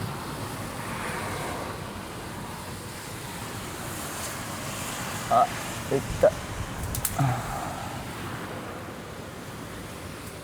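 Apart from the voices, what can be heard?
rain storm with strong wind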